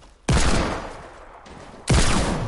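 Two loud, heavy Desert Eagle pistol shots in Fortnite, each a sharp blast that rings out in a long, slowly fading tail, spaced about a second and a half apart, with no talking.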